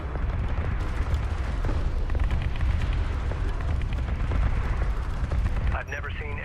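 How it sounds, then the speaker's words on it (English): Railgun fire from an enemy unit in the sci-fi desert strategy game Homeworld: Deserts of Kharak, a dense, loud barrage of sharp cracks and booms sustained throughout, with a brief electronic whine near the end. "Enemy railgun firing on friendly"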